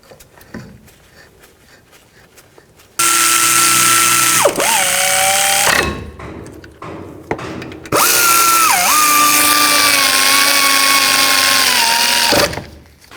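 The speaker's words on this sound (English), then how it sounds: "Now torque these bolts to 80 foot-pounds." Power ratchet or impact tool running on front brake caliper bolts of a 2007-14 GMC Sierra 3500HD, loud and close in two long sustained bursts with whining pitch shifts as the bolts seat, separated by a brief quieter gap.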